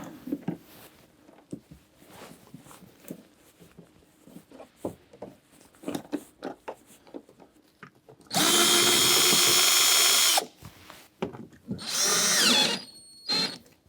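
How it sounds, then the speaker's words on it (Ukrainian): A power screwdriver drives a self-tapping screw into plastic on a Toyota RAV4 XA50 tailgate, with two loud whirring bursts, one long and one shorter, between scattered clicks and handling knocks, close up. "це саморіз, він вкручується у пластик"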